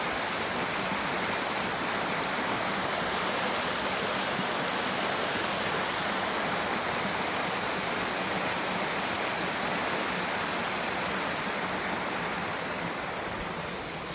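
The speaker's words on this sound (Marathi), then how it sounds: "नदी नाले छान वाहून राहिले।" Rushing river and streams along the Zari Jamni road, a steady, dense broadband roar of flowing water that stays loud and unbroken throughout, with no voices.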